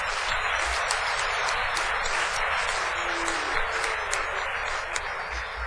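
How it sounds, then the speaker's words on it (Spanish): An audience at a morning academic panel session applauds to welcome a presenter, an even, sustained wash of clapping from a roomful of people that carries on for several seconds. "recibamos con un aplauso a Jimena"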